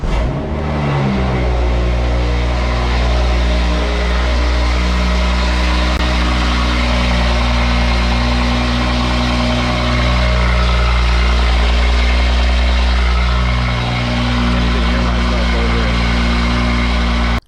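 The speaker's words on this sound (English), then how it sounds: "let's go ahead and get a little cold start off the video" A BMW 540i engine cold starts and settles into a loud, steady idle, a close, continuous low rumble with a smooth even drone throughout and no talking.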